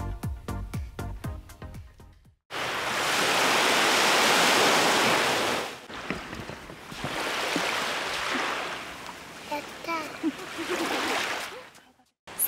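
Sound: sea waves at a beach

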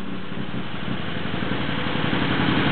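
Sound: 1948 Daimler DE36 limousine straight-eight engine idling after cold start

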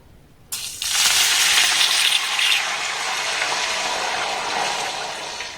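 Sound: water poured into a hot pan of ingredients

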